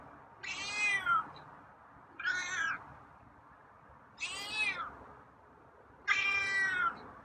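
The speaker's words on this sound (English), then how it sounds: "That's a raspy meow." A cat meows four times, each call hoarse and raspy, spaced a couple of seconds apart, close and clear against a quiet background.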